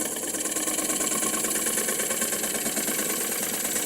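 Wood lathe spinning at about 600 to 800 RPM while a Woodcut Little Wonder cup tool cuts the wood, a steady whirring hum with a continuous hiss of shaving, even and unbroken.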